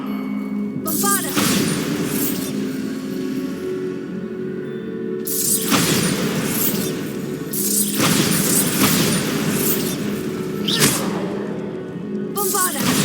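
Bombarda spell explosions from the video game Hogwarts Legacy, set in a tomb: several booming, rumbling blasts arrive a few seconds apart over a continuous game background, with a voice speaking at times.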